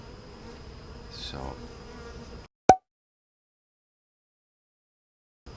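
Honeybees hum from an opened hive with a failing new queen, a steady close buzz for about two seconds that cuts off abruptly after a single short click, followed by silence.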